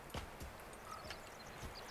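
Horse hooves in Assassin's Creed III thud faintly and unevenly through snow, a few soft footfalls against steady background noise.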